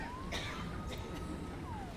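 Emergency sirens from fire trucks in a city-building simulation game wail faintly over a low background hum, a thin rising and falling tone lasting a couple of seconds.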